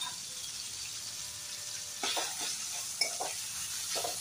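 A spoon stirs ginger paste and tomato in a frying pan over a steady sizzle, with short scraping strokes breaking through in the second half, close up and without talk.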